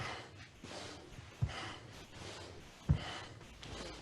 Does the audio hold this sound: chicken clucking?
no